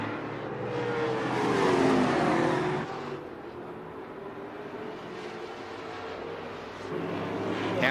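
Open-wheel modified race cars run laps of a 25-lap B main on a track, engines roaring past in a swelling then fading pass, followed by a continuous farther-off growl of the field circling.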